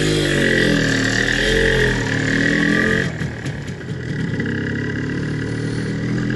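An MZ TS250/1 Supa 5 two-stroke motorcycle runs close by in first gear, a loud buzzing engine note that holds steady and then drops to a rougher, uneven idle partway through.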